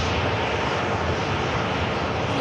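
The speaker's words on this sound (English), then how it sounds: "Got a Ryanair Max 8 coming in as well." A Ryanair Boeing 737 Max 8 comes in on approach, a loud, continuous jet roar filling the whole stretch without pause or speech.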